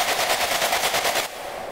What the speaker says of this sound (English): and the addition of this timed filter, it becomes a nice impact sound